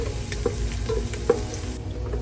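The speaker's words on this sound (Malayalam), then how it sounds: "ജസ്റ്റ് ആ പച്ചമണം മാറുന്നത് വരെ നമുക്കൊന്ന് ഇളക്കി കൊടുക്കാം." Garlic, ginger and curry leaves sizzle in hot oil in a pan for Kerala-style pork roast while a utensil stirs with soft rhythmic scrapes and clinks over a constant close frying hiss.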